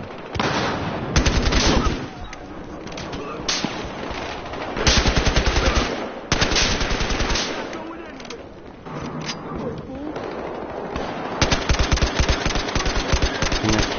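Bursts of automatic gunfire from the Battlefield Hardline video game come in several loud volleys separated by short gaps, with sustained firing toward the end and a voice talking at times.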